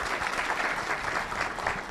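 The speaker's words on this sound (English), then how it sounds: "And a round of applause." Audience applause, a steady patter of many hands clapping together at moderate volume throughout.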